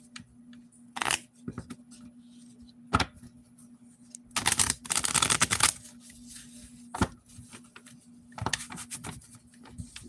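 Tarot cards being shuffled by hand in several bursts of crisp riffling and patter, with a longer run in the middle and quieter card handling between, close and fairly soft.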